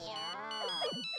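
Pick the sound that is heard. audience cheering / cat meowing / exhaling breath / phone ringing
phone ringing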